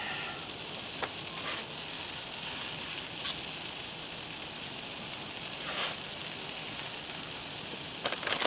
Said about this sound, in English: we're going to throw some cheese down directly on the griddle